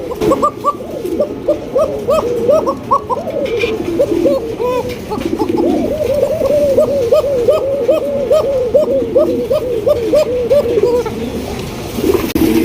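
Several pigeons coo close by in overlapping, repeated throaty calls, a continuous rhythmic chorus with no talking.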